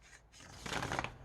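A well-worn, broken-in vintage 1979 Morgan Greer deck of cards gets one quick, soft riffle shuffle, its brief flutter of card edges rising near the end of a quiet moment.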